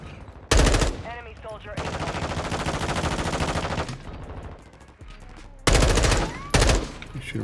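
Gunfire in the Call of Duty Warzone 2 video game: sharp single shots, then a sustained burst of rapid automatic fire, followed by more loud single shots and scattered game sounds.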